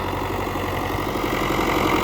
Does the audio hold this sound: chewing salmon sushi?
no